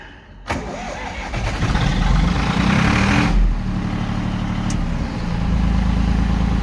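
A Zetor 5245 tractor's diesel engine starts with a sudden burst, then runs at a steady loud chug, its throttle raised so the roar swells and holds before settling to a slightly lower steady run.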